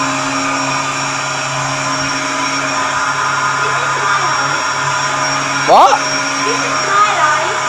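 A vacuum cleaner hoovers a floor with a steady, loud motor drone that runs throughout, while a voice briefly cuts in near the end.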